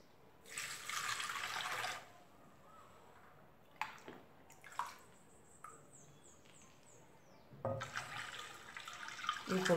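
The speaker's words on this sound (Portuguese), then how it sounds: "E eu vou colocar 1 litro de água." Tap water running into a container, a litre measured out for making liquid soap from a 200-gram bar of blue Minuano soap; two bursts of flowing water bracket a quieter stretch with clinks and handling noises.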